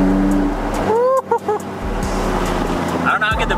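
A lowered BMW E36 M3 drives through canyon roads, its engine humming steadily from inside the cabin with a couple of brief squeals and rising tones midway, while people talk over the drive.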